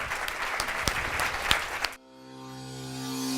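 Audience applause for a family at a church gathering, a couple of seconds of lively clapping with sharp individual claps standing out, then cut off abruptly into quiet, sustained musical tones.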